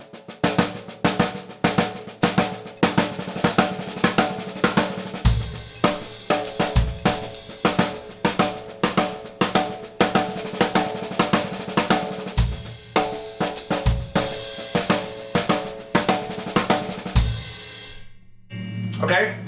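A drummer plays sixteenth-note patterns with accented strokes and doubled strokes, a brisk, even stream of sharp hits with louder accents recurring regularly, close and solo, ending with a brief ringing decay.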